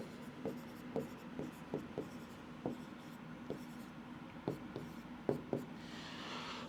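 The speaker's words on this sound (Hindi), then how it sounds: "नंबरिंग के साथ मैं यहां पर लिखते जाता हूं" A pen scratches notes by hand on paper, a faint run of short irregular strokes and taps, quiet and close, with soft background hiss.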